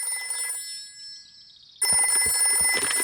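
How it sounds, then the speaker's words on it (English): A cartoon telephone rings in a bright electronic trill, first soft and wavering, then breaking into a loud, insistent repeated ring close up. "I'll ring Granny Pig."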